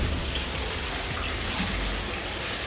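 Water splashes and sloshes steadily as a person steps into the hot spring pool of a Japanese onsen at Kurokawa, a continuous close, moderately loud wash of moving water with no talk.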